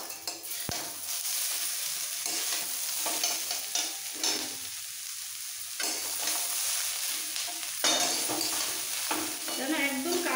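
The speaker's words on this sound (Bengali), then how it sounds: "সবজির সাথে চাউটাও ভালো ভাজা হয়ে যাবে।" Egg chowmein is stir-fried with chopped capsicum and onion in a pan, with sizzling frying and repeated scraping and tossing strokes of a utensil against the pan in an uneven rhythm.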